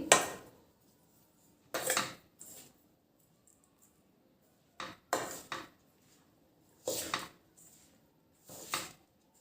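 Protein laddu dough is mixed by hand in a bowl, heard as five or six short, close scraping and clinking bursts separated by quiet pauses.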